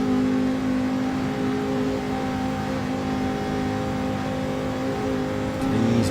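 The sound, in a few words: race cars accelerating on Nürburgring Nordschleife in a racing video game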